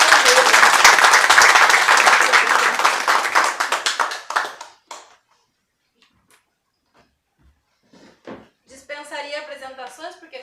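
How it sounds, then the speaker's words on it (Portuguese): Audience applause at an interfaith lecture event, loud dense clapping for about four seconds that thins out and stops, followed by a few scattered claps and then a person talking. "E uma salva de palmas."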